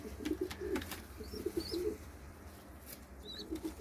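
Pigeons in a coop give soft, low cooing phrases, with brief wing flaps and a few faint chirps, heard close and quiet.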